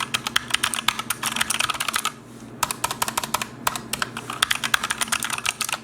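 Keys struck hard on a Razer Huntsman Mini keyboard give bursts of fast, sharp clicks, close up and loud, with a short pause partway through before the forceful typing resumes.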